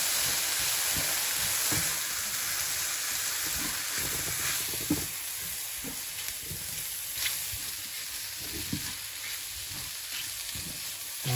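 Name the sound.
mushrooms and vegetables frying with flour while stirring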